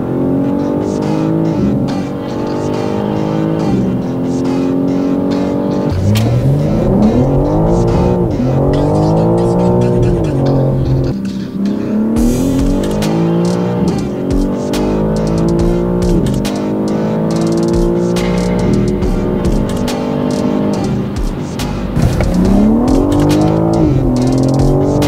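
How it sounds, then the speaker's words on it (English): A 2024 BMW M4 Competition's 503-horsepower twin-turbo inline-six revs hard through repeated rising and falling pulls, loud and close, with gear changes and a throaty, turbocharged roar. "the 503 horsepower twin turbocharged inline six that sits beneath this hood"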